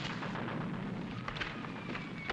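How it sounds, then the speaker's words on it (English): Gunfire in a 1942 film: a rapid, rough crackle of shots in a continuous dense volley, moderately loud throughout. "Somebody's using real bullets"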